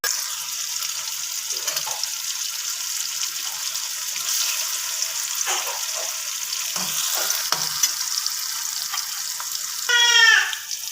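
Whole spices (cinnamon, bay leaf, star anise, cloves and peppercorns) sizzling in hot oil in a pan for chicken rassa, a steady close hiss with a few soft stirring knocks and a brief louder burst near the end.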